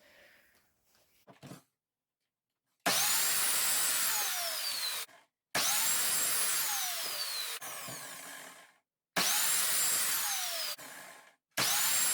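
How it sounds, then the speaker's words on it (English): A miter saw chops wooden chair legs to length for a children's chair in repeated loud, close cuts, each a whining blade spin-up and bite that winds down, with short silent gaps between cuts. "make sure they're all cut to the same length, chop them down on the miter saw"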